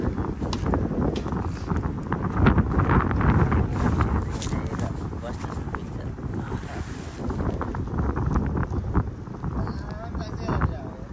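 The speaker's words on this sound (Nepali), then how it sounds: "हावा चलिरहेको छ" Wind gusts hard against the microphone, a steady low rumbling roar outdoors, with people talking underneath.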